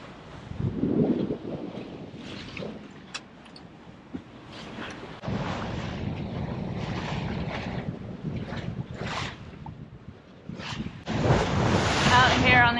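Ocean waves slosh and wind buffets the microphone aboard a sailboat at sea on a confused one-to-two-foot swell, with surges of rushing water rising and falling over the stretch.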